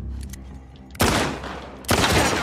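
Two loud, close bursts of gunfire from The Last of Us Part II, each a sharp broadband blast with a ringing tail, roughly a second apart, over faint game ambience.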